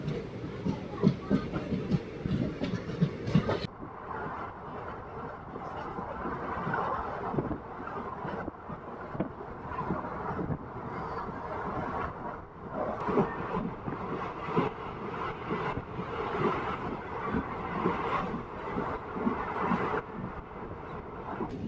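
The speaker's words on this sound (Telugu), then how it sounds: "ముదిగుబ్బ నుంచి మన ట్రైన్ బయలుదేరింది." A passenger train pulling out of Mudigubba station, rolling on the rails with a steady rumble and clickety-clack heard from inside the carriage, with some wind buffeting.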